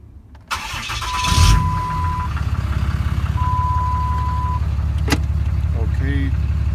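A car engine cranks briefly with a starter whine, catches and settles into a steady, rhythmic idle close by; a few faint clicks and a short voice sound come near the end.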